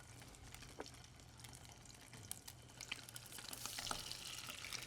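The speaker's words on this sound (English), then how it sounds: "We're going to cook the char skin side down, and we're going to cook it right in the pan." Arctic char fries skin side down in a pan with a soft, steady sizzle and scattered light crackles and pops. The sound is faint and close, and it swells slightly near the end.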